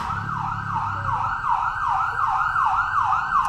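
A police patrol car siren wails in quick, repeated rising-and-falling sweeps, loud and steady throughout, over a low rumble of passing traffic.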